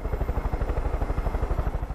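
A helicopter in Far Cry 5 thumps along with a fast, steady rotor beat, loud and close, the pulses evenly spaced throughout.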